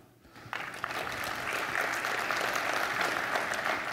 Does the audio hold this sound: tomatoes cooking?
no